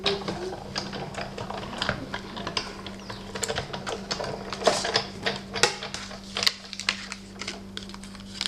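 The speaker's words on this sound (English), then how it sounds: "Bring in the big shot." A Big Shot die-cutting machine cranked through a paper frame for card making, giving a run of quick clicking, ratcheting mechanical ticks close up with no talk.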